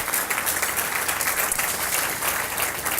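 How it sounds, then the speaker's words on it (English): An audience at a Spy Museum groundbreaking ceremony in Washington applauds Milton Maltz, a dense, even burst of clapping that carries steadily throughout. "Give Milton a big round of applause"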